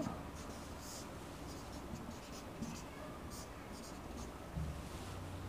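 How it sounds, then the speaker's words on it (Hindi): Marker or chalk strokes on a board while a math problem in inverse trigonometric functions is worked out, faint short scratches scattered under a teacher's steady speech and room hiss. "लेकिन लिखते समय मैं इस साइड में लिखता हूँ"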